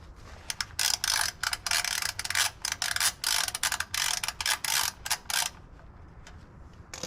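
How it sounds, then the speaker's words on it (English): A 3/8 inch ratchet with an extension loosens the rear differential fill plug on a 2024 Chevrolet Silverado 2500HD 6.6 gas, giving a close, steady run of quick clicking strokes in bursts that fade out near the end. "Then we also need a 3/8 inch ratchet."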